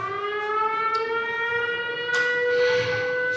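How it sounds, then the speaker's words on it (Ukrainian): An air raid siren wails steadily at a university during a physics day, its rising then level tone loud and continuous with faint background clatter. "Це і є ваша ця повітряна тривога?"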